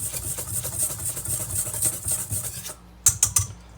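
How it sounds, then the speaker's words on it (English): Dry baking ingredients (flour, baking soda, baking powder, salt, nutmeg and cinnamon) being whisked together in a bowl for zucchini bread, a quick scraping, rubbing rhythm close by, ending with a few sharp taps of the whisk. "we'll just give that a whisk to combine"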